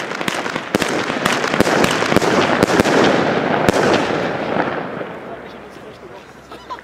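Funke Goldstrobe firework fires a rapid series of sharp crackling strobe bursts over a loud hissing roar, gradually fading toward the end; no speech over it.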